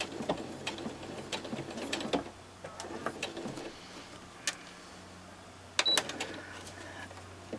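A sewing machine stitches through a paper-pieced quilt block, giving a few short mechanical runs with clicks and pauses between bursts, close by and moderately quiet with no talk.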